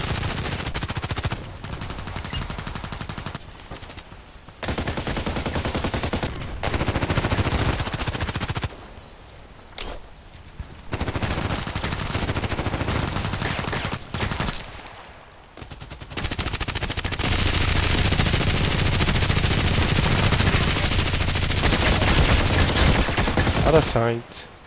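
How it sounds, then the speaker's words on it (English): Heavy machine gun in the video game Contract Wars fires in long, loud sustained bursts, broken by a few short pauses, with a brief voice under the gunfire. "Yeah, I like this machine gun. It's quite heavy."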